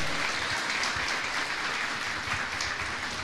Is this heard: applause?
yes